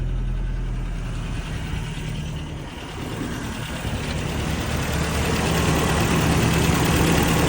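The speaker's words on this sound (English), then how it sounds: "So we're going to do a engine running" The engine of a 1989 Toyota Pickup 4x4 idles close by with a smooth, even, low rumble that holds steady throughout, with no voices.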